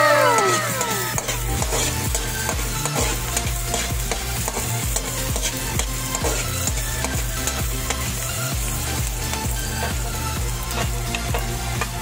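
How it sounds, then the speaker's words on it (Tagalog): Onion, garlic, ginger and carrots sautéing in hot oil, a loud steady sizzle broken by repeated scraping and clattering of a spatula stirring the pan. "nakahanda na ang aking sibuyas, bawang, loya, at carrots. Ayan, gigisahin na natin guys."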